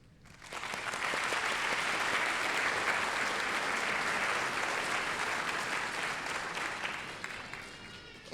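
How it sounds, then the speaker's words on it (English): A steady round of applause fills the hall at a nursing pinning ceremony as the audience recognizes faculty, rising quickly and holding dense before tapering at the end. "let us recognize you with our applause."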